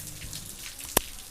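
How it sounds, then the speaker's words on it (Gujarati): Light drizzling rain on a pleasant outdoor day, heard as soft, sparse patters with one sharper drop striking a surface near the end. "ઝરમર ઝરમર વરસાદ"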